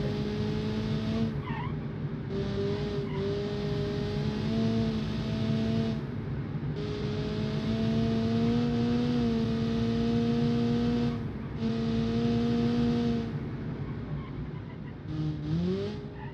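A 175-horsepower rear-wheel-drive car in a racing game, its engine revving in long rising and falling pulls, with tire squeal from the spinning wheels, loud and close, with no talk.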